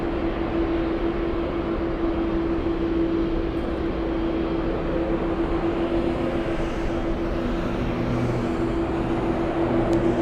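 A London Air Cargo freight aircraft at LAX gives a steady, loud jet roar and whine that fills the air without a break, with no voices over it.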